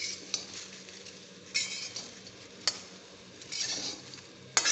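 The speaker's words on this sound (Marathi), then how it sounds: "त्याला चांगले डाग पडेपर्यंत ही भेंडी आपण परतून घेऊया." Dry okra is stirred in a kadhai without oil. A faint sizzle comes with scattered scraping and clinks of the spatula against the metal pan, heard up close and quiet.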